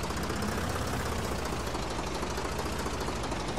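Tractor engine in the Professional Farmer 2014 farming game, a steady dense rumble with a knocking, idling character that surges up and down in revs, loud and continuous with no talk.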